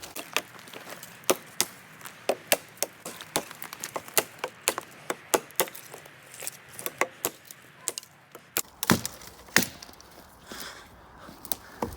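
Custom Origin kukri knife chopping into wood, a rapid series of sharp close impacts at a steady rhythm, some strokes louder and splintering.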